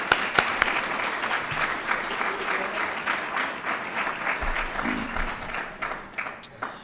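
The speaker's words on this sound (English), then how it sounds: "And so again, a nice round of applause for all of our student entertainers," Sustained audience applause fills a university event hall after student entertainers, ambassadors and speakers are recognised, steady and fairly loud throughout before thinning slightly at the end.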